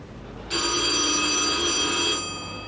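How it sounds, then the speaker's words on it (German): A telephone bell in an early-1970s German office scene bursts into a loud, continuous electric ring, holding for about a second and a half before cutting off, with quiet room tone on either side. "Siehst, das Telefon geht doch andauernd."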